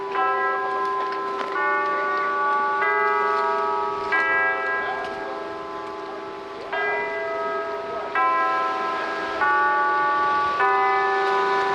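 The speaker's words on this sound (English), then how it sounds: "hear some bells playing from the hillside there." Church bells ring out from a building on a hillside on Catalina Island, a series of clear resonant strikes over a steady hum, moderately distant and without talk.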